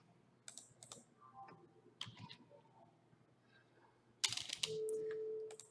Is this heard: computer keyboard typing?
yes